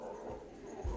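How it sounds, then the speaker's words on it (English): An indoor dog gives a single faint, short bark or yip at a distance, heard in a quiet room. "Oh, there goes my dog."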